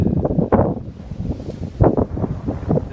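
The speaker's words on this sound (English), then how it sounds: "can you hear that wind?" Wind blowing outdoors, buffeting the microphone in loud, uneven gusts with rustling surges that rise and fall throughout, heard on its own without speech.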